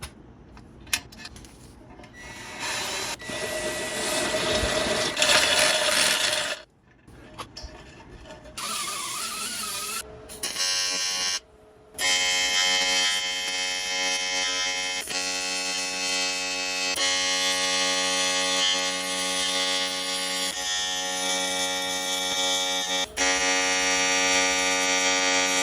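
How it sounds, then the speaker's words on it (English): An oil drain bung being welded onto an oil pan for an RX-7 FD with an LS swap, heard as a loud, steady electric buzz with two short breaks partway through. "this was the worst welding I've ever done"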